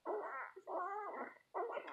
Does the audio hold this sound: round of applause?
no